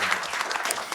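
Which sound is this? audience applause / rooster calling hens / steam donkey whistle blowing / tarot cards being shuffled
audience applause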